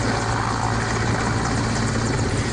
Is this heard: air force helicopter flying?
yes